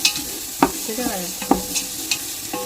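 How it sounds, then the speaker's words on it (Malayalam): Ingredients sautéing in a pan give a steady sizzle, broken by several sharp scraping strokes of a spatula stirring, close and fairly loud, with no voices. "ഇത് നന്നായിട്ട് ഇതെല്ലാം കൂടെ അങ്ങ് വഴറ്റിയെടുക്കുക"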